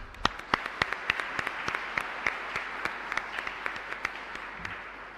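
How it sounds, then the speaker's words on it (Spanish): Scattered, distinct handclaps from a modest parish congregation at Mass thanking the priest, sparse and irregular rather than a dense roar, fairly soft and continuing for about five seconds. "Queremos agradecerle al Padre Cabañas por su sí a nuestra comunidad con un fuerte aplauso."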